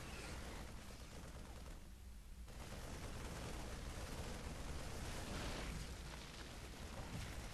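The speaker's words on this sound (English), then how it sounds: "siege tanks shooting each other" Siege tanks trading fire in StarCraft II, a dense, continuous barrage of booming explosions and gunfire that stays loud throughout, with a brief thinner patch early on and no talk over it.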